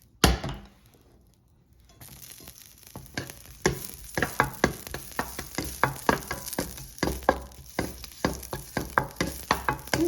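Green bell pepper stir-fried in melted butter and oil in a pan, a steady sizzle rising after a quiet start, with a brisk run of scraping and tapping from a utensil against the pan. No one speaks.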